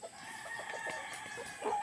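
A rooster crows and clucks faintly at a short distance over a quiet, steady background, with a slightly louder call at the end.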